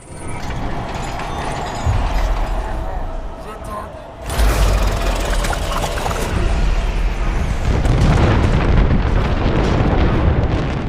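In the film Prometheus, an explosion erupts as the Engineers' homeworld is bombed: a dull build-up, a brief drop, then a heavy, sustained rumbling blast, with a voice talking over it.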